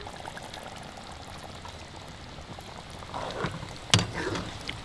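Ground coconut and cashew paste is poured into simmering Madurai-style mutton curry, giving a soft wet gurgling slosh that thickens toward the end, with one sharp clink of a utensil against the pot.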